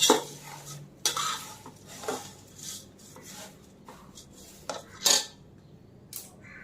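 Thin poha chivda is tossed and mixed in a metal pan, with intermittent scraping swishes and clinks of a spoon in uneven bursts, close and fairly quiet, with faint sizzling between strokes.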